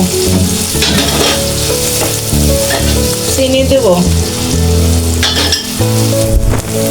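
Dried chillies, turmeric and salt fry in a pan with loud, dense sizzling and scraping stirs and a few clinks, while music plays underneath and a voice briefly speaks.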